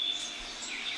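Birdsong in the morning outdoors, a few faint high chirps and tweets carrying over a quiet background, with brief calls near the start and again at the end.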